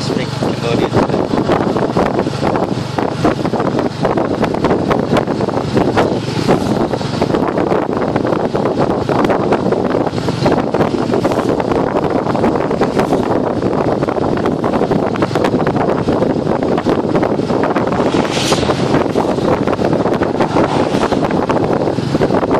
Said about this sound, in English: Really nice windy here.